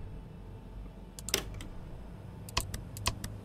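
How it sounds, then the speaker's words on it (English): Rapid bursts of mouse clicking during a livestreamed horror video game session, two clusters of sharp clicks close to the mic over a low steady hum, with no talking. "If you guys can hear me spam clicking,"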